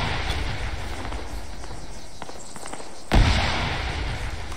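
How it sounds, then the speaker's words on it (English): In the game Antistasi, a sharp explosive blast cuts through a steady, noisy background of distant rumbling and crackling gunfire, followed by sustained loud noise. "explosions in place of Mario"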